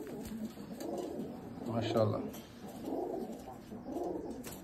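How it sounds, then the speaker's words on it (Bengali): Rajshahi Giribaj pigeons coo softly nearby, low rolling murmurs that rise and fade in a few waves, while a person briefly speaks over them. "এটা আবলুক বলে, রাজশাহীর আবলুক কবুতর"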